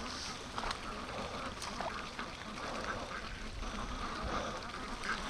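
Free-range ducks quack and chatter beside a wet creek in the morning, a busy flock heard at a modest distance over outdoor ambience with faint rustling.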